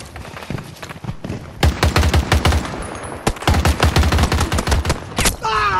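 Close, loud bursts of automatic rifle fire in a 128-player Breakthrough match of Battlefield 2042, with M16A3 and XM25 weapons, rattling in rapid repeated volleys with short gaps and a brief whistle near the end, and no speech.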